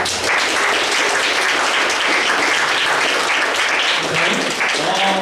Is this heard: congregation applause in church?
yes